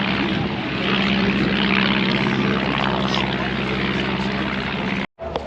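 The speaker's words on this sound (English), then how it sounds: "not bad for nearly 90-year-old aircraft" A nearly 90-year-old propeller aircraft flies at the Tyabb air show, its engine a loud, steady droning roar that fills the whole stretch before cutting off abruptly near the end.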